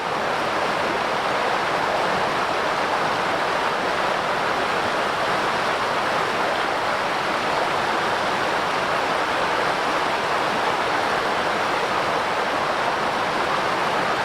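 Water rushes steadily over Smalley Falls and along the stream below, a constant, dense, full roar close by with no pauses and no voices.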